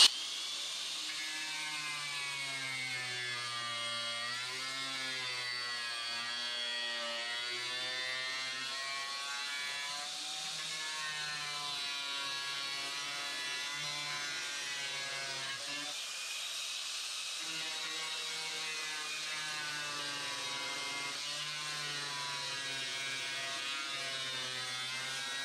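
A power tool fitted with a cutting disc grinds steadily into a sewer box, a continuous high whining buzz with slight shifts in pitch as the blade bites, loud and close for the whole stretch with no talking.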